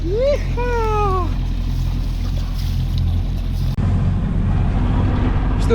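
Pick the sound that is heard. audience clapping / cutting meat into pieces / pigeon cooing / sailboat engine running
sailboat engine running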